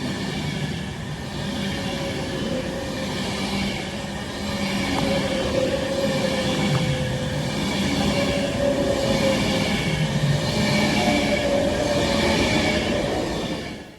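An electric passenger train rumbles steadily past close by on a main line, a continuous rolling roar with faint wheel tones and a rising hum, no voices.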